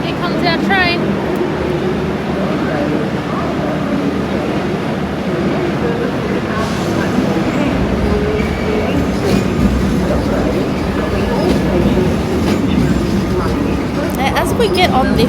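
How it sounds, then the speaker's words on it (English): A train pulls into platform 9 at a busy station, a steady broad rumble and clatter filling the whole stretch with brief squeals near the start and end, while a person talks over it. "Here comes our train."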